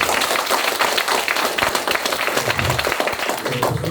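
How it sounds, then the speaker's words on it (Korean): Audience at an agricultural policy debate for a county mayoral election gives hearty applause, close, dense and vigorous clapping sustained at even loudness for the whole stretch. "큰 박수 한번 부탁드리겠습니다."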